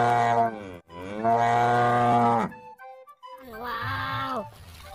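A toy cow gives two long, loud electronic moos close by, followed after a short pause by a third, shorter moo. No talk is heard over it.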